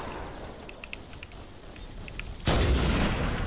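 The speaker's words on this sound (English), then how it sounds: "they're all shooting at you" Gunfire in Halo: The Master Chief Collection during online play: faint scattered shots, then a sudden loud, sustained burst of shooting close by.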